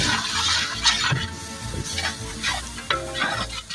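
Half a kilo of ground ginger-garlic paste goes into golden fried onions in a pan, giving an uneven sizzle with scraping stirs and wet bursts, close and loud, no voices.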